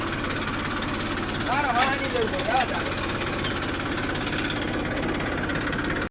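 A tractor engine idles nearby, a steady low mechanical rumble with a faint knocking pulse that runs evenly throughout, while someone speaks over it briefly.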